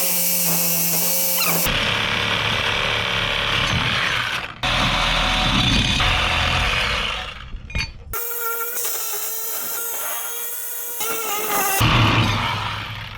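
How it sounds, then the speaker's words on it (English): Power tool cutting through worn, damaged spring hangers on a homemade car hauler trailer, a loud continuous grinding whine that runs in several long bursts, briefly broken by short gaps, with no talking. "These spring hangers are obviously trashed and not going to be reused, so I will be cutting them off now."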